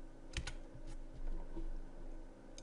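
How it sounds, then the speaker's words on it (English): Keys on a computer keyboard click a few times, sparse, close and quiet, as a logo is nudged on an invoice template, with no talking. "You can use the arrow keys on your keyboard to move it"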